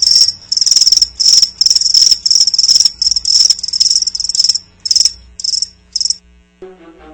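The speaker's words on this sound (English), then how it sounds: "That's right, crickets." Crickets chirp loudly in steady pulsing bursts, a rapid trilling that repeats for several seconds before stopping.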